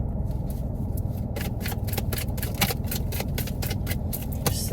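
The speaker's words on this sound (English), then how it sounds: "I gotta shuffle kind of in a contained manner." Tarot cards shuffled in tight quarters, a rapid run of papery riffles and flicks close to the ear, continuous and fairly loud with no talking.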